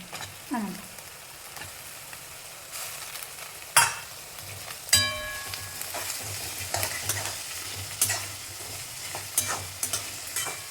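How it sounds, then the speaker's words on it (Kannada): Potatoes and onions frying together in a pan for poha, with a steady low sizzle and repeated scraping stir strokes close by, no talking. "ಉಳ್ಳಾಗಡ್ಡಿ ಜೋಡಿನೇ ಬಟಾಟೆ ಹಾಕ್ತೀನಿ"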